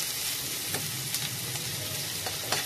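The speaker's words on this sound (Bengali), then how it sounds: "যখন পেঁয়াজটা দেখবো একটু পিঙ্ক কালারের হয়ে গেছে, নরম হয়ে এসেছে" Onions fry in a pan for pasta with a continuous close sizzle and occasional light scrapes of a stirring spoon, alone without talk.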